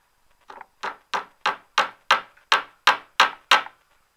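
A hammer taps ten times in an even rhythm while laying model railway track, sharp close knocks on a hard surface with short gaps between.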